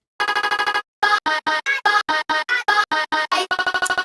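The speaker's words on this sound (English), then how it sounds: "Without any processing, the vocal chops sound like this." Unprocessed vocal chops for a remix: short clipped sung syllables fire in rapid rhythmic bursts, first a quick even stutter, then longer pitched chops, then another fast stutter, loud and dry.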